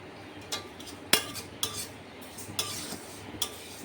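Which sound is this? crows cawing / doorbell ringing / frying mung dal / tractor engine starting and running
frying mung dal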